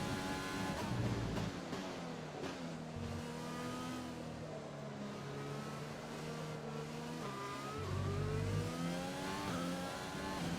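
Formula One race car engine on soft tyres at Zandvoort in the F1 20 video game, a continuous loud high-revving whine rising and dropping through gear changes, with brief dips as the car brakes and accelerates again.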